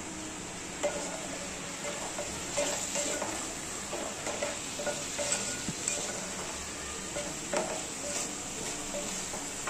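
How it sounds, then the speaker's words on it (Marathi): Ground spices frying in oil and stirred in a pan with occasional spoon scrapes and clinks over a continuous low sizzle, close by and without talk. "सगळे मसाले घालून झालेत. आणि तेल सुटेपर्यंत भाजून घ्यायचे"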